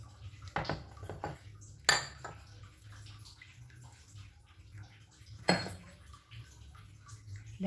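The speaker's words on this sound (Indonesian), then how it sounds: "Dan kemudian kita aduk sampai merata." Durian cheese cookie dough being stirred with flour in a bowl, heard as soft scraping with a couple of sharp utensil knocks against the bowl, close and fairly quiet.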